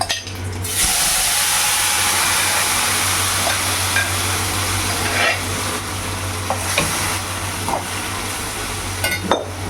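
Mango pieces stirred and sizzling in a hot pan with mustard seeds for mango pachadi, a steady close frying hiss with scraping and occasional clinks of a spatula against the pan, no talk.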